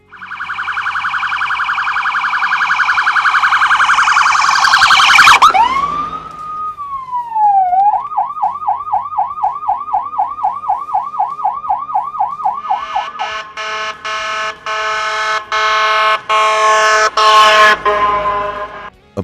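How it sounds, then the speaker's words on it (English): An emergency vehicle siren cycles through its modes: a loud rising and falling wail, then a rapid repeating yelp, then a series of blaring electronic air-horn blasts, all close and alone. "utilizing the T3, yelp, and electronic air horn modes of the siren"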